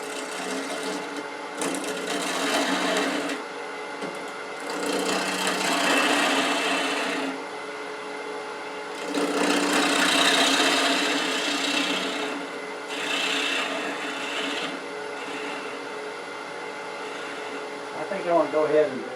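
A 5/8 inch gouge roughs out a bark-rimmed wooden bowl spinning on a lathe, in repeated rasping passes of several seconds each with short quiet gaps and the motor humming beneath.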